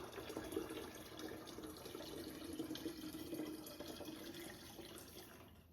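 Water poured from a quart container into a gallon container, a steady close splashing and gurgling stream that runs evenly through the whole stretch without a break.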